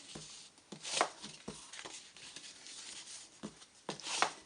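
A paper trimmer slices through leftover cardstock in several soft, separate strokes and scrapes, each a brief close swish, quiet overall.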